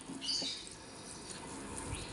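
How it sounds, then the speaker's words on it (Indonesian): Water poured from a can onto dolomite lime around the base of a potted grape vine, a soft, faint trickle and splash that continues steadily, with no voices. "Oke, kita siram dulu ya teman-teman."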